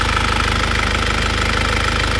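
A 2001 Isuzu Panther diesel engine, warmed up, runs at a steady idle with a rough, rapid knocking from worn cylinder liners, loud and close with no talk over it.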